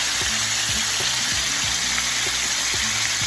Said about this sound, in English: You want to deep fry your fish until it gets nice and golden.